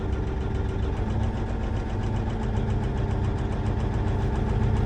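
Versatile 2360 tractor diesel engine idling steadily with one injector cut out for diagnosis, a close, continuous low knocking rumble with slightly lowered RPM throughout.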